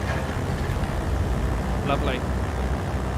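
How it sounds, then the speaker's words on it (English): Simulated Britten-Norman Trislander in Microsoft Flight Simulator with engine number 1 starting, a steady loud droning engine rumble throughout, while someone speaks briefly near the end. "And let's give engine number 1 a start."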